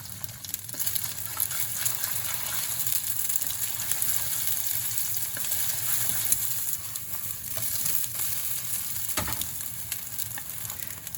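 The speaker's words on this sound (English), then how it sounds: "we pour in the egg and keep stir frying" Egg stir frying in hot edible oil in a pot, a steady crackling sizzle held close throughout, with occasional clinks and scrapes of stirring and no talk.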